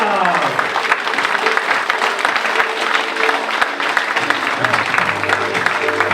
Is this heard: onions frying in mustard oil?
no